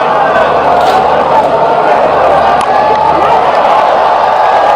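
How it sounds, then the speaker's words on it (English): Rawalpindi cricket crowd at a Sri Lanka vs Pakistan T20 match roars and chants steadily for Babar Azam as he walks in, a dense, continuous stadium din with broadcast commentary faintly underneath. "the Rawalpindi crowd as usual chanting his name"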